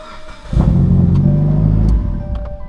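Mitsubishi Evo engine cranking and catching, then revving briefly at a loud steady roar for over a second before settling back, close by with no talk.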